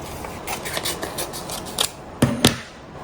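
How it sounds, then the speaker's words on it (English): Scissors cut through material close by during a sublimation craft project, giving a run of soft rhythmic snips followed by a few sharper, louder clips near the end, with no talking. "So I'm gonna go ahead and cut this too so I can see."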